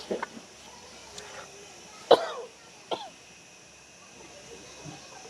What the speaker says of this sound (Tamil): சாப்பிடக்கு முதல்ல இருமுறைங்க